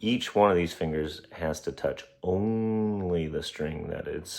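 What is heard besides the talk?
No everyday noises stand out.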